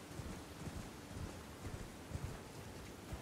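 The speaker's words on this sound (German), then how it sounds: "Was soll denn das jetzt mit dem Gewitter hier?" Thunderstorm in the video game Elden Ring: steady rainfall with low rumbling thunder and gusts of wind, faint and continuous, with soft repeated low thumps and no voices.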